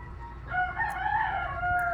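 A rooster crows once in a drawn-out, wavering call, slightly distant, over a low background hum.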